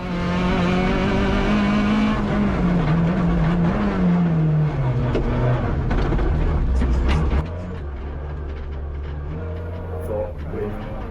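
A Peugeot 106 rally car at the Rally Van Wervik 2025 brakes hard into a 90-degree left and slides straight on off the road, its engine roaring loudly, then the engine note drops and settles into a lower idle.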